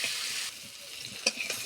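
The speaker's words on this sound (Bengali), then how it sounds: "আলুগুলো হালকা ভাজবো" Potatoes frying lightly in oil for a Bengali mutton kosa, a steady soft hiss with brief clinks of a spoon against the pan near the end, no talking.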